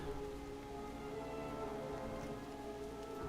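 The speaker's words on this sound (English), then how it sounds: "Began raining IRL suddenly." Sudden outdoor rain pours steadily and fairly close, a dense continuous patter on surfaces throughout with no voices.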